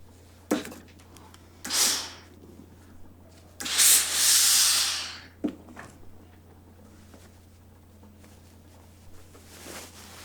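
Steam iron hissing over a sewn shirt collar during sleeve and buttonhole sewing work: several separate bursts of close, airy steam hiss, the longest lasting about two seconds, with quiet pauses and faint handling noise between them.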